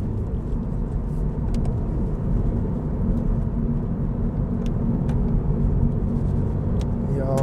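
A new Subaru BRZ sports car drives a mountain road, its engine a steady, close, droning rumble with road noise throughout and no clear gear changes.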